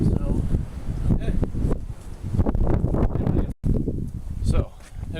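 Gusty wind buffets the microphone outdoors at a junkyard engine teardown, a loud, continuous low rumble with swelling gusts and a brief dropout near the end.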